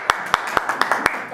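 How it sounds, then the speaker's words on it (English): Several scattered hand claps from a small group at a Toastmasters-style club meeting, sparse and irregular rather than a full ovation, with faint talk underneath. "lots of applause."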